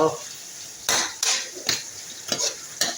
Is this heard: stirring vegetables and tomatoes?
yes